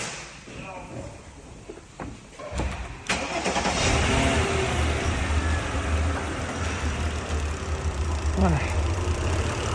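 A repaired Mercedes Vito engine starts and settles into a steady, loud idle close by, a low rumble that fills most of the clip after a brief cranking burst, with someone talking over it.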